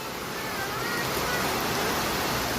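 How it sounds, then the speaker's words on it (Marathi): Heavy unseasonal rain pours down in a Konkan village near a petrol pump in Kankavli, Sindhudurg, a dense, steady roar of downpour that stays loud and unbroken throughout. "किती जोरात पाऊस पडतोय बघा"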